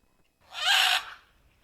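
A single screeching bird call from a sound-effects library rises sharply, holds loud for about half a second, then fades, alone against silence.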